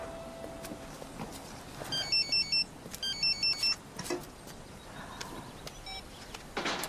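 A mobile phone ringtone for an incoming call chimes in two short bursts of repeated electronic tones over a quiet room, fairly close and clear.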